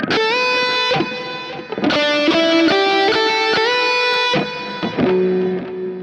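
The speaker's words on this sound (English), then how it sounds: "So that's called a full step bend" Distorted electric guitar notes with a string bent up a whole step, the pitch sliding up and held, several picked notes ringing together.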